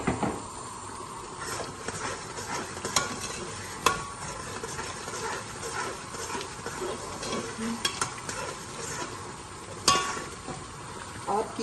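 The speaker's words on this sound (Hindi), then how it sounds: "इसको भून लें। ये मेरे पास ना मटन का कीमा है" Mutton keema for an aloo keema dish sizzles and fries as it is stirred, with steady hissing broken by occasional scrapes and knocks of a spoon against the pot.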